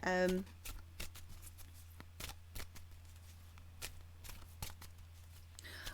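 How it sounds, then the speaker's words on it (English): Tarot cards being shuffled, a series of crisp riffling and flicking bursts spaced irregularly over a faint steady hum, fairly close but quiet, with a short louder sound at the start. "I'm going to shuffle 6 cards"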